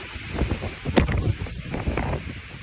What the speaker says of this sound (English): The gusts of wind, phenomenal.